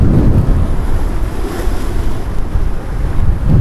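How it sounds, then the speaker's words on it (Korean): Strong wind by the sea buffets the microphone during a fishing trip on Chuja Island, with roaring gusts and surf noise filling the whole stretch and no speech. "바람 엄청 붑니다"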